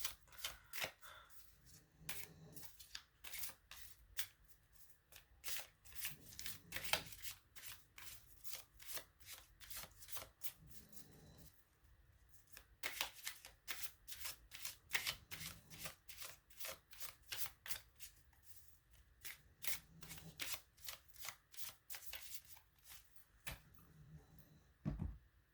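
Tarot cards shuffled by hand in repeated bursts of riffling and flicking, close and soft, with brief pauses between rounds and no talking.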